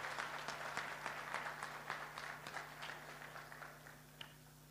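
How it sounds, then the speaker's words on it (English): Audience at a corporate awards ceremony claps together, a fairly steady run of hand claps at moderate distance over a low electrical hum, thinning out near the end with one last sharp clap. "With a clap, come on."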